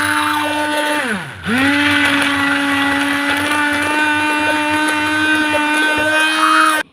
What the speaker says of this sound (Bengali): এটা আমি মেশিন দিয়ে ডিমটা ফাটিয়ে নেব